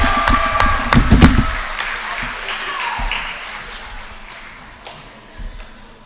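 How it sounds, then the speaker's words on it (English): A crowd in a school gym at a girls' volleyball game claps for the seniors, with a brief burst of scattered, echoing claps that quickly fades to faint room noise and a few isolated taps. "One more big round of applause for all of our seniors and their"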